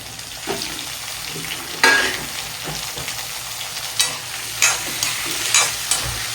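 Curry leaves sizzle and sauté in hot oil for a fish curry masala, a steady crackling fry punctuated by sharp spatters and pops as the pan is stirred, close and alone.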